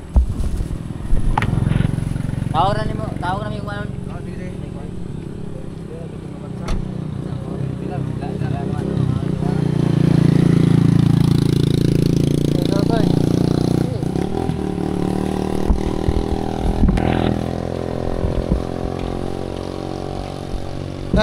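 A motorcycle engine rises and fades as it passes close by, mixed with people chatting and background street noise.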